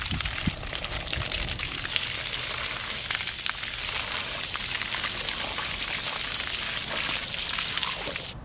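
Water splashes and trickles over a stack of phone books as they soak, a continuous close sloshing and dribbling with a few sharp drips throughout.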